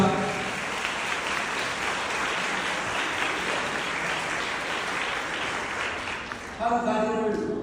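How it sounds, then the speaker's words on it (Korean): Guests at a Korean wedding ceremony in Bucheon break into sustained, dense applause that fills the hall evenly, then a voice starts speaking over the tail end as the clapping fades. "큰 박수 부탁드립니다."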